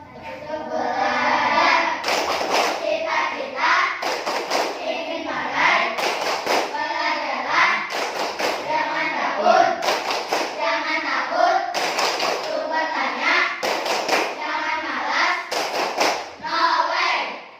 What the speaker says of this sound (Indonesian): Coba tepuk pelajaran.